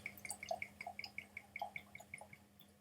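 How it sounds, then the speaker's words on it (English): Poitin spirit pours into a glass as a quiet, rapid series of small liquid plinks and drips, a steady trickling rhythm heard close and faint. "Let's pour a glass."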